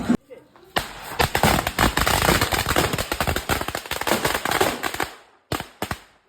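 Firecrackers bursting at a church feast, a rapid, loud string of cracking bangs that runs for several seconds before a brief pause and a few more close pops.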